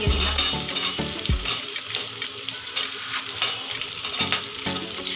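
Onions, with chopped green chillies, fry over a high gas flame for a Bengali bhola fish curry: a loud, continuous crackling sizzle broken by frequent scraping stirs and clinks of a utensil against the pan.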